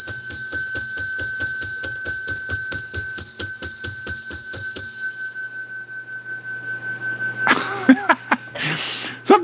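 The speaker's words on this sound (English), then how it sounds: "I got to ring the bell." A bell is struck rapidly and evenly, about twenty bright ringing strokes over five seconds, then the tone fades out, followed by a few close breathy vocal noises.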